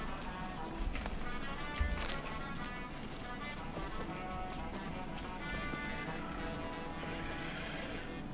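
Faint, steady horse hoofbeats clip-clop in The Witcher 3, set against a low, continuous game soundscape.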